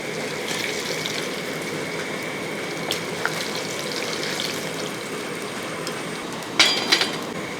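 Jackfruit snack deep-frying in hot, well-boiling oil, a steady close sizzle and bubbling hiss with a brief louder splash-like crackle near the end.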